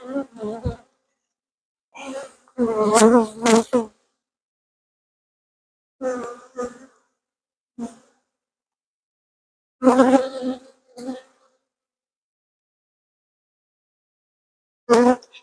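Honey bees buzz during a hive inspection in a bee yard, coming as short, close, droning bursts with wavering pitch and separated by quiet gaps.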